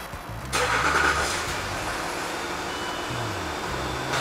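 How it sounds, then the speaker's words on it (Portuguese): A Land Rover Discovery SDV6 2.7 engine kicks in loudly, then settles into a steady, even idle close by with no voices. "vamos ver de perto o funcionamento desse motor"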